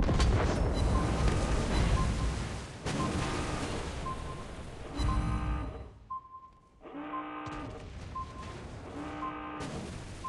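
In a naval combat video game, torpedo blasts rumble heavily beneath dense, continuous game audio and music, with the loudness dipping briefly midway before the booming resumes.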